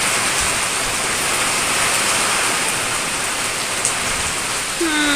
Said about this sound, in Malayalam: മഴ പെയ്യട്ടെ, നല്ല പോലെ പെയ്യട്ടെ.